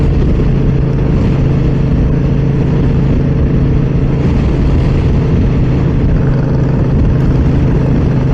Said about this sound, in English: The wind is incredible.